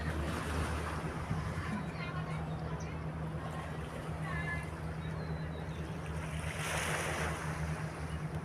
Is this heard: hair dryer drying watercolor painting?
no